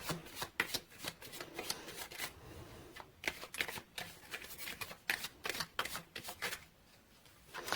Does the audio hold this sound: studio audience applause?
no